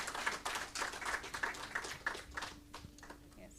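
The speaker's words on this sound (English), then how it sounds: "Please give them a round of applause" Brief, faint applause for panel members at a mental health conference, scattered rhythmic clapping from a modest audience that thins out after a few seconds.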